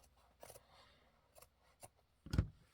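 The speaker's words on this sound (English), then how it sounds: "get out my fabric scissors and cut them straighter with fabric scissors" Fabric scissors cutting through craft material by hand, a few faint, quiet snips spaced irregularly, ending with one louder close cut.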